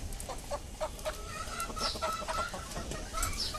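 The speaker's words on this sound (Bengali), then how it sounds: "আর এই যে আলহামদুলিল্লাহ মোরগটা।" A rooster and chickens clucking on a small farm, with soft, repeated clucks and short calls in an irregular rhythm, fairly faint and slightly distant, with no talking.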